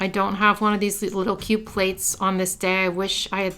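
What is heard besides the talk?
No everyday noises stand out.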